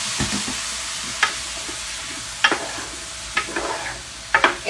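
Spices sizzling in hot oil in a pan as a dash of water goes in while cooking cauliflower with potatoes, with a steady frying hiss and several sharp bursts of spitting and stirring.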